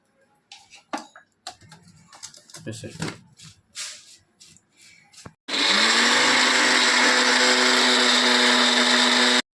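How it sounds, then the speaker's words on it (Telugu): After a stretch of conversation, a mixer grinder grinding onion paste kicks on abruptly and runs as a loud, steady, high-pitched motor whine with a rough grinding texture until the end. "ఇదిగోండి ఉల్లిపాయ పేస్ట్ రుబ్బేసాను."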